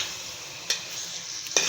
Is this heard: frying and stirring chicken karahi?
yes